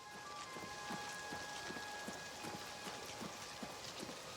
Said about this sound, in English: I don't think my game is liking the rain.